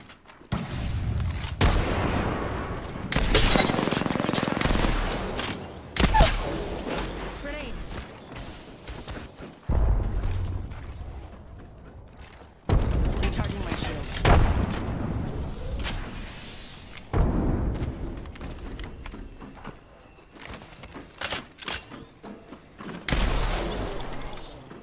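Grenade blasts and gunfire in the Apex Legends battle royale game, a run of loud booming bursts and rapid shots separated by short lulls, with voice chat over parts of the action.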